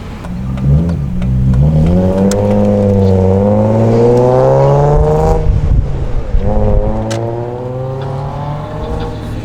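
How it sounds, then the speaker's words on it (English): BMW E36 engine revving hard, a loud, close, sustained rising and falling engine note with several throttle swells over nearly ten seconds and no talk. "Man, this freaking car sounds so good."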